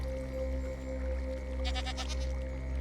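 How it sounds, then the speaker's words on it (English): Goats bleating in Minecraft, a single wavering synthetic bleat rising briefly over a steady droning musical background. "Goats."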